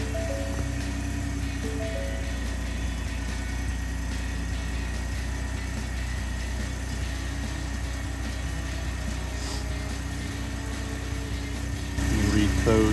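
A Ford F-150 EcoBoost pickup idles steadily after starting, a continuous low engine hum close by that holds through the whole stretch and rises slightly near the end.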